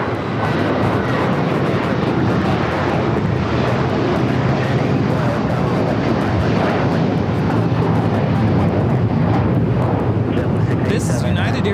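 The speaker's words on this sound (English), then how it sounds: "2113 taking off to Chicago on the 757-300" United Airlines Boeing 757-300 taking off from LAX for Chicago, heavy sustained jet roar and rumble at close range, loud and unbroken throughout.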